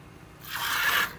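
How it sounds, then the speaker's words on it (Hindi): A cow is scrubbed by hand in a village yard, one-handed and with little pressure: a soft, close rubbing swish swells for about half a second and then fades. "गाय धोई जा रही है।"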